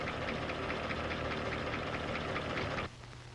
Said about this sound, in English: that annoying clatter was the sound of mechanical valve lifters